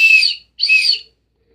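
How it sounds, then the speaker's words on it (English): Two sharp, bright blasts from a hard plastic whistle, each about half a second long, separated by a brief gap, loud and close with silence afterward. "hard plastic durable whistle."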